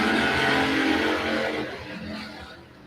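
A Ford Capri and a 1995 Mustang launch in a drag race, engines roaring loud and close, then fading as the cars pull away down the strip.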